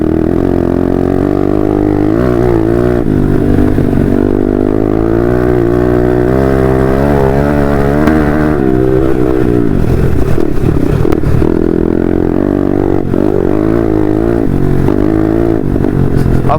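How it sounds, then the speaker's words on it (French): A heavy dirt bike motorcycle engine runs loud and close, with a steady rumbling idle and wavering revs rising and falling throughout, no voices over it. "sur ce genre de moto, c'est qu'en fait ça a tendance plutôt à faire beaucoup de bruit"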